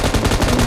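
An M249 light machine gun fires in PUBG on the Erangel map: a loud, rapid burst of closely spaced automatic shots lasting under a second, with no talk.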